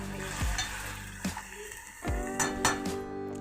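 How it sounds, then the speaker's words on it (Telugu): Dried prawns sizzling in hot oil in a pan, a steady close crackle broken by several clanks of a metal spoon stirring against the pan. "చూడండి, చక్కగా ఫ్రై అవుతూ ఉన్నాయి కదా"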